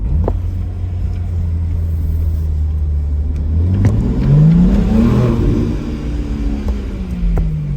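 A BMW M3 (2022–2023) engine accelerates hard in first gear, its loud droning pitch climbing steadily through the gear, then easing and rising again.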